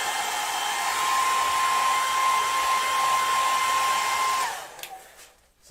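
A hair dryer blows with a steady, loud whooshing roar and a faint high whine, then switches off and winds down near the end.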